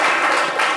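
A studio audience on a live French-language talk show gives dense, steady applause, with many hands clapping together in a brief, loud burst.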